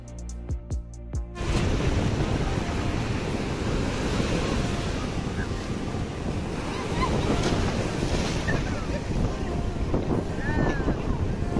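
Sea waves at Puri beach roar steadily as surf breaks and washes ashore with crowds bathing, heavy wind buffeting the microphone throughout after a few brief clicks at the start.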